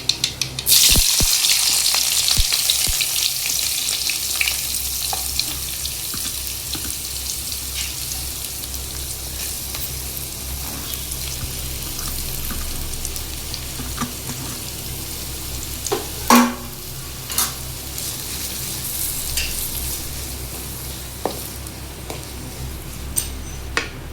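Onion, garlic and tomato hit hot oil with popped mustard seeds in a pan, giving a steady close sizzle and crackle that stays loud for the whole stretch, with a few sharper pops and stirring clicks along the way.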